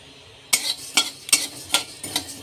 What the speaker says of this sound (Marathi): आता ते आता धणे भाजून घ्यायचे आहेत